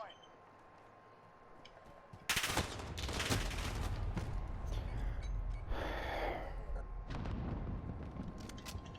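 Rapid gunfire from a sentry gun in a shooter video game, loud bursts of automatic fire continuing through most of the clip after a quieter opening, with a voice reacting briefly over it.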